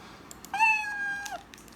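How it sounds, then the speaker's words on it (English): A cartoon cat meows once in the Scratch coding program, a single clear, bright meow about a second long with a falling end, heard alone against near silence. "If I click this, the cat will go as meow."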